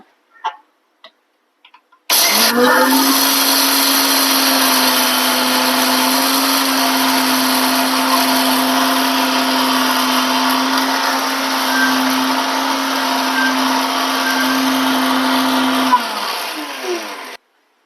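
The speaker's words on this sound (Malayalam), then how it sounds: "മൂന്ന് ഏലക്ക ചേർക്കുക ഇതൊന്ന് പൊടിച്ചെടുക്കുക" A kitchen mixer grinder pulverising a few cardamom pods runs loud and steady for about fourteen seconds after a few small clicks, then winds down to a stop.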